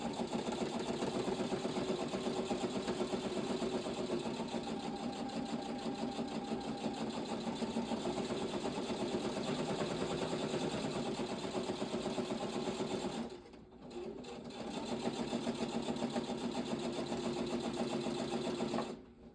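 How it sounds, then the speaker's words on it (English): A sewing machine stitches steadily nearby, its rapid, even whirring running almost without a break, with one brief pause before it picks up again. "Let me give us a good sewing here."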